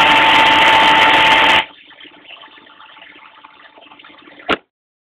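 A drill spins a brushless motor used as a generator. A loud, steady motor whir runs first, then it drops to a quieter rattling spin, which ends with a brief sharp clack. No one speaks.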